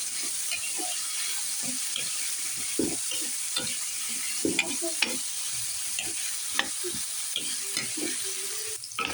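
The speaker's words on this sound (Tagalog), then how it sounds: "unahin natin sa pag-fry ang carrots at patatas" Carrots and potatoes fry in oil in a pan, giving a steady, close sizzle throughout, broken by irregular scraping and clinking as a utensil stirs them.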